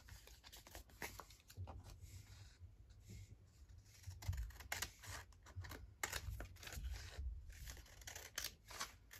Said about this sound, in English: So I'll just cut that out so I can peel off those bits of paper from this